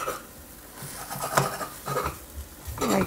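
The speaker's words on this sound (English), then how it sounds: "we'll cut this into small pieces so that it gets fit into our bread slice" Knife or utensil clinks and scrapes against a pan or plate while a cooked omelette is cut into small pieces, several irregular knocks over steady low background, no talking.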